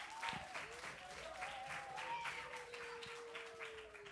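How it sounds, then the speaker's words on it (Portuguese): A lecture audience gives a teacher a round of applause, faint and somewhat distant clapping in loose bursts, with a thin tonal whine running through it. "Uma salva de palmas para a professora."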